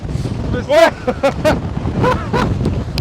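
Strong wind buffeting the microphone on an icy mountain summit in the Scottish Highlands, a loud continuous rumble with a person talking over it.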